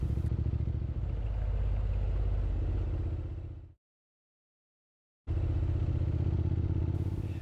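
A motorbike rides along a road in Victoria, a close, steady engine drone that cuts out briefly to silence before returning at the same level.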